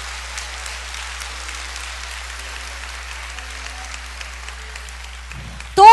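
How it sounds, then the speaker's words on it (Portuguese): A church congregation applauds at a Sunday service, steady dense clapping filling the room, with a voice cutting in right at the end. "Você quer aplaudir ao Senhor?"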